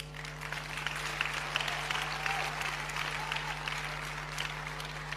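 A church congregation applauds a preacher, a steady, fairly distant wash of clapping hands over a constant low electrical hum that runs through the whole stretch.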